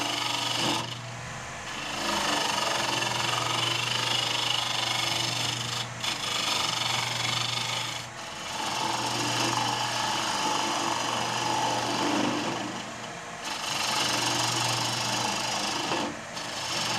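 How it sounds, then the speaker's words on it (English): A freshly sharpened gouge cuts a slightly spalted maple bowl on a wood lathe, giving a steady rasping, scraping drone over the motor's low hum, continuous with brief pauses between passes. "I'm always amazed at how nicely a freshly sharpened gouge cuts."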